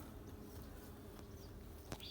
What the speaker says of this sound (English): There's already some bees coming up to check it out.